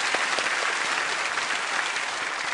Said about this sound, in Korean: 우리 수고하시는 모든 분들 박수로 한번 격려해 주시면 좋겠습니다